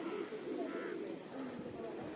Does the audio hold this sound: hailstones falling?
no